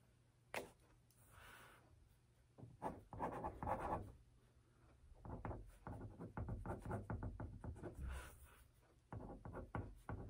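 Pen scratching on paper in an office, written in short bursts of quick strokes, close and fairly quiet, with a low hum underneath and no talking.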